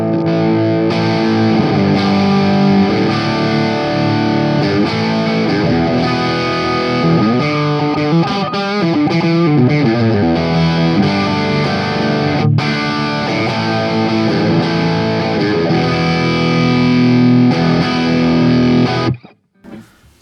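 Distorted electric guitar played through a Kemper into a Celestion G12M Creamback cabinet, close-miked with a Sennheiser 421, chugging steadily and loud for about nineteen seconds before stopping abruptly.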